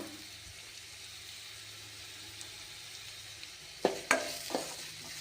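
Curry leaves and cashews fry in hot oil, a soft continuous sizzle that flares into a few sharp crackling bursts near the end as the leaves hit the pan.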